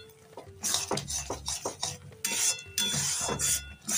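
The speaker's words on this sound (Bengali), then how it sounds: "আর এখন আমি বেসনের গুঁড়োটা অল্প অল্প করে দিচ্ছি। আর একবার দিয়ে দিয়েছি, দিয়ে আরেকবার দিয়ে আর আমি ভালো করে নাড়তে থাকছি।" Gram flour being stirred into syrup in a pan with a spoon, scraping and clinking in an irregular rhythm of repeated strokes, close and moderately loud, with faint sizzling in the background.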